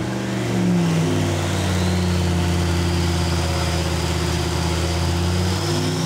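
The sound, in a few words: turbocharged big block Ford engine running on test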